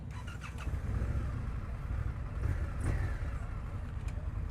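A 2021 Indian FTR Rally motorcycle engine starting, a brief crank then a deep steady idle rumble with light revving, close and loud with no talk.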